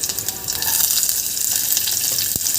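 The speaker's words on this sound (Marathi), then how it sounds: "मिरची आणि लसूण छान आपण होऊ देऊ थोडा वेळ, हलकासा कलर चेंज होतपर्यंत।" Garlic and green chilies sizzle steadily in hot oil for a Maharashtrian tadka for spiced buttermilk, a dense continuous frying hiss with a sharp crackle near the end and no voices.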